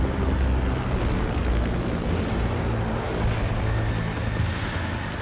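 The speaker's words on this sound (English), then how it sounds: "it starts with a very faint sound of helicopter blades, which slowly rises and increases in volume" Helicopter blades open a brutal, intense film score cue, a dense, steady low rotor roar filling the whole stretch, loud and continuous, with no voices.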